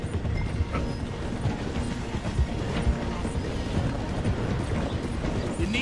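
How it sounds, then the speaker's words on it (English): A train in a video game rolls through a station, giving a steady, dense rumble with rhythmic clattering throughout and no clear pauses. "The train is slowing down to go through the station"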